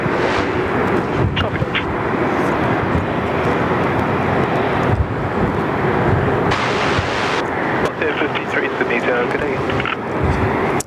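A Qantas airliner arriving from Paris via Perth at Sydney Airport, a loud, steady broadband jet roar filling the whole stretch, with voices talking over it.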